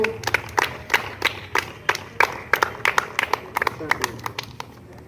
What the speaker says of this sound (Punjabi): ਤਾੜੀ ਮਾਰੋ ਬੱਚਿਓ